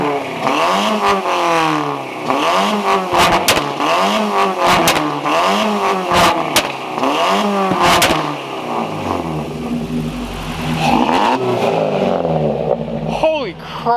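A heavily modified Subaru with side-exit pipes revs hard in repeated surging bursts, its engine rising and falling with sharp backfire pops as it shoots flames, loud and close, with people talking over it.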